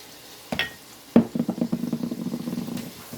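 Ground beef frying in olive oil in a pan, a steady close crackling sizzle broken by rhythmic scraping and stirring strokes, with a couple of sharper knocks near the start.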